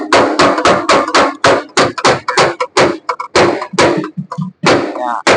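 A hammer taps a car's front fender panel during bodywork, with loud, close metallic strikes in quick bursts and a few brief pauses.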